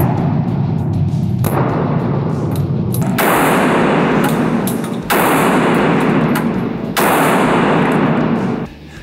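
Blasts from a Black Aces FD12 bullpup shotgun at an indoor gun range, several loud, close booming shots in fairly quick succession, each reverberating and sustaining before the next.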